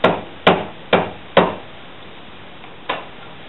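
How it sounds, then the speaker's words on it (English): A brass hammer taps on metal during a custom axle build: four evenly spaced sharp knocks, then a pause and one lighter tap, close and dry with no talking. "Using the brass hammer so we don't damage the pen."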